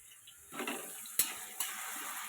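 Turmeric being stirred into a pan of fish curry made the traditional way: a soft, steady scraping and light sizzle with two sharp clicks of the spoon against the pan, close and fairly quiet.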